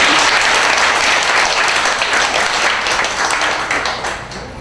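Loud, dense applause from an audience at a Benedictine monastery oblate assembly, sustained steadily and then tapering slightly near the end, with no talking over it.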